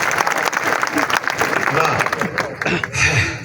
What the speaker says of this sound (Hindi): एक बार आपकी सम्मिलित तालियां आए